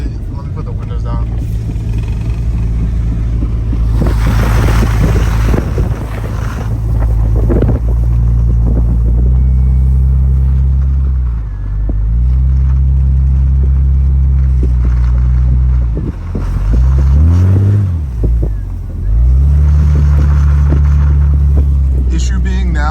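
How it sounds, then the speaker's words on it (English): A two-wheel-drive Jeep Grand Cherokee WJ drives through a snowstorm with its windows down, its engine droning low and shifting pitch under heavy wind buffeting, tire noise and occasional voices. "Let me put the windows down."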